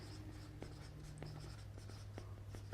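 A pen scratches across paper in short strokes and taps, dry and close, running steadily over a low background hum.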